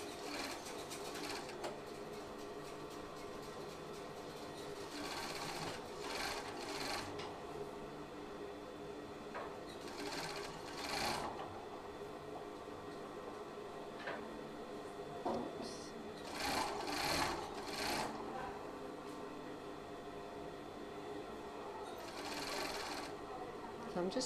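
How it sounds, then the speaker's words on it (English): A coverstitch sewing machine runs along a T-shirt seam in several steady whirring bursts with pauses, close and moderately loud, while a person talks throughout. "there's no reverse on these cover stitch machines, so you just need to run over the end of the sewing"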